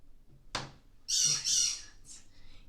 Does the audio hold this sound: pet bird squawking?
yes